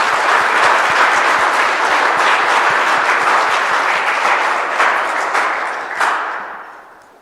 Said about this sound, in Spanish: Aplauso a Jesús, hermanos, que está en medio de nosotros.